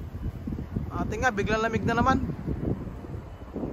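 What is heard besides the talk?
wind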